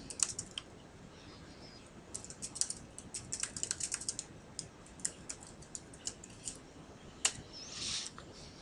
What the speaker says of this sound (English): so they're going to type in